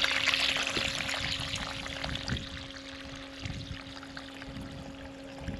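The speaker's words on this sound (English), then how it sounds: "It's pumping out quite a bit of water." A water pump discharges a steady flow through a 150-foot hose, a continuous rushing pour over a constant mechanical hum, fairly close and even in level throughout.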